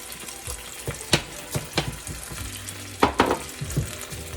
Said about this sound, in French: On va attendre que l'huile se réchauffe. On poursuit avec les oignons.